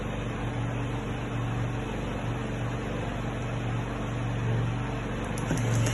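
Vanilla cake batter being mixed as egg is added bit by bit, heard as a steady, even motor whirr with a faint hum that runs unbroken throughout, with no talking.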